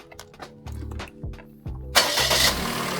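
A Perodua Axia's engine cranks with a few rhythmic starter whirs, then catches and roars into a loud, steady idle close by.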